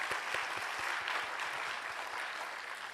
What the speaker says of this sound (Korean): 우리 8주간 치열하게 훈련을 받으신 우리 수료생 분들을 위해서 박수로 격려하도록 하겠습니다